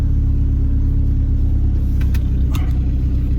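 Loud steady low engine rumble heard from inside a car fitted with new turbo parts as it pulls hard, with a couple of brief high clicks or rattles over the drone.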